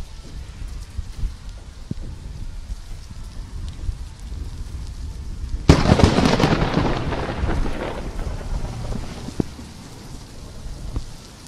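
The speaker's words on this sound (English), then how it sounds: "lightning is striking all around" A flash flood storm with rain pattering steadily, then a sudden loud crack of a close lightning strike followed by rolling thunder that slowly fades back into the rain.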